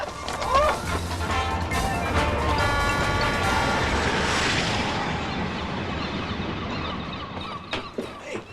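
Several guns fire in a rapid burst of loud, booming shots that ring out and fade over a few seconds, with no talk over them.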